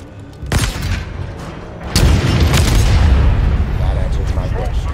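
Explosions from gunfire in the Halo Infinite campaign: two loud booms, the second followed by a long rumbling roar that carries on to the end.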